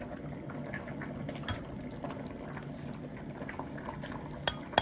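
Spaghetti bubbles in a pot of boiling salted water, a steady close rolling simmer with faint clinks of kitchen utensils near the end.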